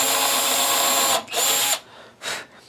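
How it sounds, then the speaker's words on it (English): A power drill pre-drills a screw hole during Telecaster guitar assembly, whining loudly for about a second, then giving two shorter bursts with brief pauses between, close up and without talk. "I'm going to pre-drill,"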